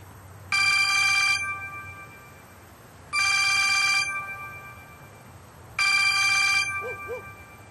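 A telephone rings three times in even bursts, each a bright electronic trill with short pauses between, close and clear over a low background hum.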